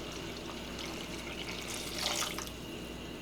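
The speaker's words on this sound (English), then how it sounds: "We need to add about 3 cups of water to balance it out." Water poured into a pot of Thai coconut curry broth for khao soi, a soft steady splashing pour with a brief louder gush near the end.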